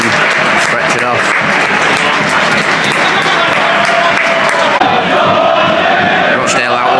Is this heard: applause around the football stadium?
yes